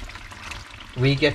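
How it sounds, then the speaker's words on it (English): Water being poured into a thick butter chicken sauce concentrate, a short close splashing pour that lasts about a second, with a voice briefly heard near the end. "I'm going to start adding my water in now."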